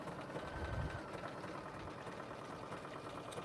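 Sewing machine stitching a striped fabric wallet with rayon thread, a quiet, even mechanical whir running steadily throughout, with no talk.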